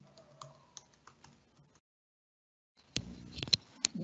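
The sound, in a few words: typing a password on a computer keyboard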